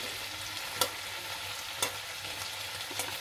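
Shell-on prawns fry in a pan with a soft, steady sizzle, punctuated by a few sharp clicks and scrapes of stirring.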